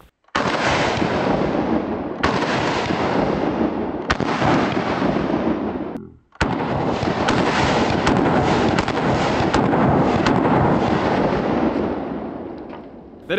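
Glock pistol firing bullets that had been frozen solid in a block of ice for a week, outdoors: four loud, close gunshots spaced a couple of seconds apart, each followed by a long echoing decay, with no talking.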